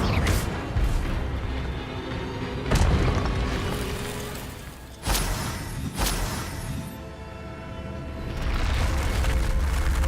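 An Incendio fire spell is cast in Hogwarts Legacy, bursting into a loud, booming whoosh of flame. Several heavy blasts land over a dense, continuous rumble of game effects.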